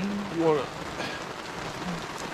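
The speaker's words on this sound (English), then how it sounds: "Ain't nothing wrong with a tent in the rain." Steady rain patters on a tent and the ground around it, a dense even hiss that holds for the full stretch, with a brief whistling tone early on.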